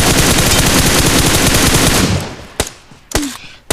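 Loud, close automatic gunfire in PUBG Mobile rattles continuously for about two seconds, then stops, followed by a few isolated sharp single shots.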